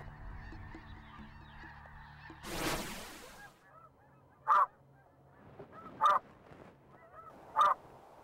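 Snow geese honk in three loud, separate calls spaced about a second and a half apart, following a brief rushing burst over a quiet outdoor background during a spring waterfowl hunt.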